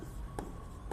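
A pen scratches across paper as a name is written by hand, a soft continuous scraping with two brief stroke accents, close and alone.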